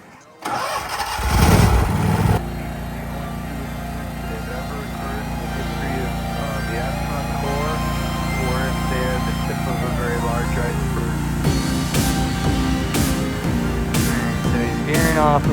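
Zero-turn lawn mower starting up with a cranking roar, then running at a steady, close, even drone while mowing straight stripes, with a voice talking over it near the end.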